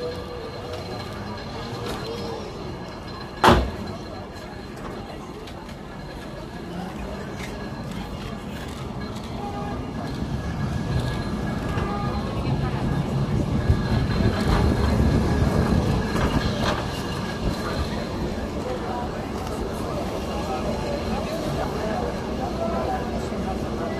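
Lisbon's tram 28 rolls along its route from Praça Martim Moniz with a steady low rumble and rattle that swells midway, a sharp metallic bang near the start, and voices talking over the ride.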